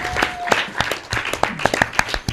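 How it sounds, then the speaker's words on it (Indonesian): An audience at a school cultural event claps in a brisk, uneven burst of applause, fairly close and loud, lasting a couple of seconds. "Tepuk tangan untuk Asrama Sunan Kudus."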